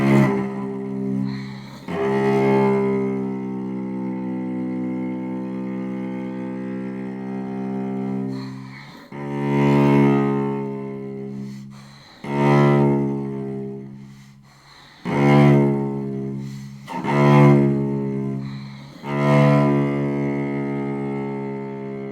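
Solo instrument sustaining long wavering tones with microtonal grinding bends in a passage from Charlotte Seither's krü, phrases swelling and breaking off at irregular intervals, close and alone.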